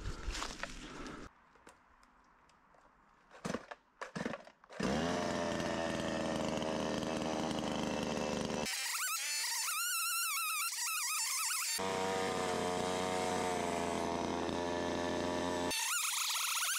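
Fresh aspen wood is cut with a saw in the forest, heard as loud, sustained, buzzing cutting runs that broke off between cuts, close up, after some quieter handling at the start.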